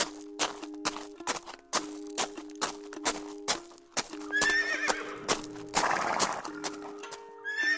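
A horse neighs while its hooves clip-clop in a steady, close rhythm, with several sharp whinnies rising near the end and faint ringing tones in the background.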